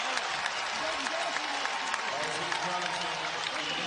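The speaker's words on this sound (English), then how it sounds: "let them sub them out to the applause from the crowd for a job well done" Crowd at an Oregon State versus Oregon college basketball game applauding players subbed out, a broad continuous wash of clapping in a large arena with faint voices and crowd noise mixed in.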